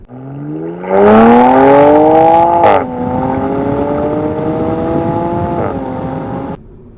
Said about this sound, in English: It also has additional cooling and M Sport exhaust, so it does make a pretty good sound.